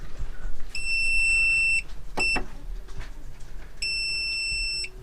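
Three bursts of rapid, high-pitched electronic beeping from a portable device's low battery warning, each lasting about a second, with a short click between them and faint background noise.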